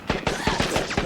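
Rapid gunfire in the Dead Rising 4 video game, about six evenly spaced sharp shots within a second, close and fairly loud.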